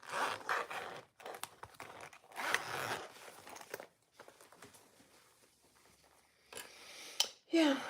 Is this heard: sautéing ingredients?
no